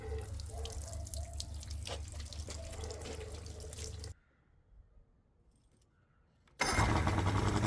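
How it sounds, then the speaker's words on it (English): Water from a garden hose gushes and splashes steadily through flushing muffs on a 1990 Johnson outboard engine for a few seconds, cuts to near silence with faint drips, then a loud rushing flow resumes abruptly. "using these flushing muffs and a garden hose"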